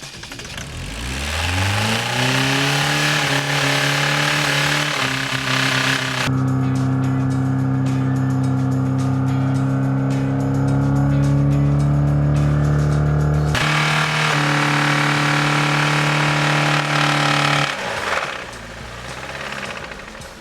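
A car engine running with candle wax in place of its oil, close and loud: it starts, settles into a strained droning idle with a knocking edge, rises and dips in pitch, then sputters and dies.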